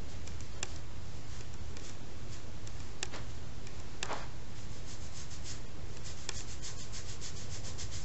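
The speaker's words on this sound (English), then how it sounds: "So for that, I just take it, rub it all over my head." Palmer's product worked over the scalp by hand, a faint steady rubbing and friction with a few soft ticks, close and quiet with no talking.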